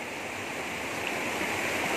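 A small river with modest-sized rocks flows through a village in Kudat, a constant close rushing and bubbling wash of water, steady and unbroken with no voices.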